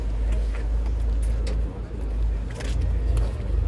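At an outdoor Cars and Coffee meet in Paris, a Dodge Challenger muscle car with a 6.4-litre engine rumbles with a deep low idle that swells now and then, while someone talks over it.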